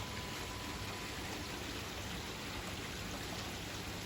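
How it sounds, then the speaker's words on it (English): Heavy rain falls outside in a dense, even hiss, steady and unbroken throughout, with no voices. "The heavens haven't stopped raining"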